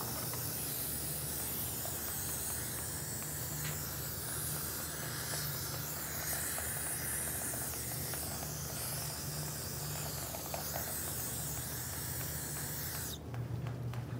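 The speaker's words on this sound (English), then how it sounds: "Just get a little brake parts cleaner, clean it up." Brake parts cleaner sprayed from an aerosol can onto the rear brake backing plate of a 2013-2018 Toyota RAV4, heard as a close, steady hiss that runs unbroken for about thirteen seconds before cutting off abruptly.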